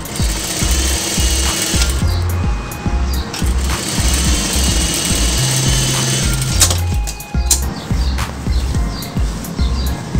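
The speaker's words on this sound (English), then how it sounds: "stitch it again at the edge of the canvas" An electric sewing machine stitching salwar fabric runs in loud, rapid rhythmic bursts with brief pauses and changes in speed, close up and with no voices.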